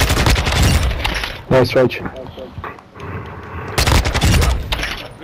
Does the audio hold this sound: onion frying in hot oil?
no